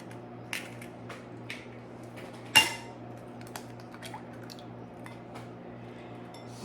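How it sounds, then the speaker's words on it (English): Eggs are cracked into a bowl in a home kitchen: a few sharp taps and cracks against the rim, one clearly louder snap in the middle, and soft squishy drips between them. The sounds are close and quiet, with no talking. "In this bowl, we're going to crack the eggs."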